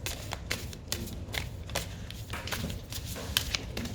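Repeated riffling and slapping of a slippery tarot card deck being shuffled, quick irregular bursts close to the listener, no talking.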